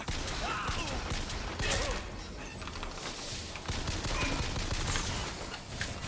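Rapid bursts of automatic gunfire from an SMG-style weapon in a shooter video game set in 1999, loud and close, with dense overlapping shots and mechanical clatter running throughout.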